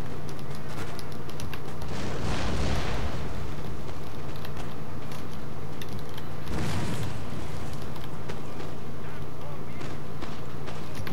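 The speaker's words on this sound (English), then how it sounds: "his artillery is set up and are shooting at my" Artillery fires in the Napoleon Total War battle game, with a couple of deep booming blasts standing out from a constant loud wash of battle noise, while someone talks over it.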